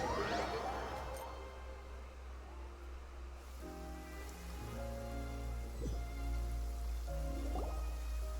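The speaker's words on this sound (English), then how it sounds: "It's been raining non-stop for a few days now." Rain falls steadily in a Genshin Impact game scene, a soft even patter under low sustained ambient music tones, with no voices.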